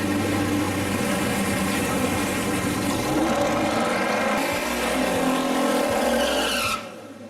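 Chrysler 440 cubic-inch big-block V8 in a classic muscle car roaring steadily at high revs, a loud continuous engine drone that cuts off sharply near the end.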